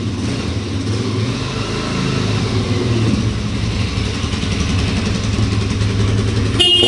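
A brand-new 2007 Suzuki DR-Z400SM supermotard motorcycle idles nearby with a steady, even engine drone throughout, ending in a brief click.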